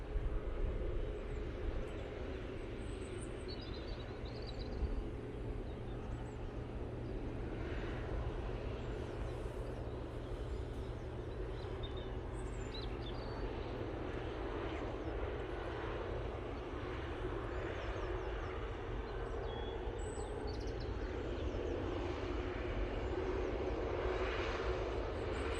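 A British Airways plane at Manchester Airport, heard as a steady, moderately distant aircraft engine roar that holds through the whole stretch without breaks, fairly faint against outdoor background.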